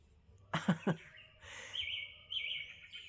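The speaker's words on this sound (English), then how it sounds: "there's a bird chirping" A few birds chirp outdoors, thin high warbling calls that are faint and distant, following a short burst of nearby coughing or throat noise against a quiet background hum.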